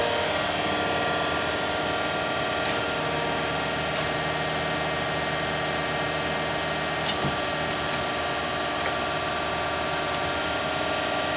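A Danobat RU3500 universal cylindrical grinder runs with a steady mechanical hum and whine, with a few faint clicks over a constant drone.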